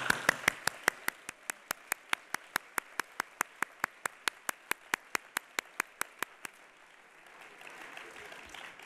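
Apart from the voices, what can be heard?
audience applause for new graduates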